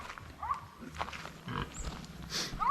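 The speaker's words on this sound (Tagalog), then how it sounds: "Bisitahin ko yung baboy, yung kambing natin oh." Farm pigs and goats, with scattered grunts, snorts and bleat-like squeals at close range, alongside rustling and faint background noise.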